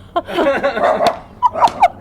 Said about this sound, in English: My dog's been stalking a squirrel this whole fucking podcast.